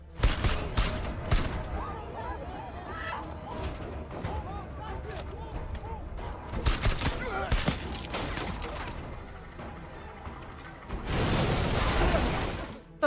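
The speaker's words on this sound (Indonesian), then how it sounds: "hingga pada akhirnya terjadi baku tembak." Rapid volleys of gunfire and sharp shots ring out through a film shootout scene, mixed with mechanical clatter and mid-range voices, climaxing in a dense, loud burst of firing near the end.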